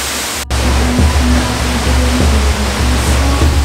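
Water rushes loudly and continuously at Kulugu waterfall on a hiking trail, a dense, close roar broken by a brief dropout near the start.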